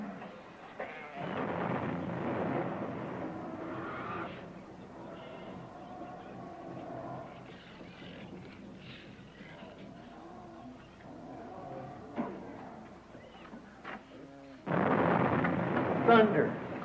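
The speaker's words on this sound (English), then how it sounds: "thunder." Deep rumbling thunder rolls in broad swells through a dramatized scene of the flood beginning around Noah's Ark, with a loud, heavy burst near the end and voices sounding faintly beneath.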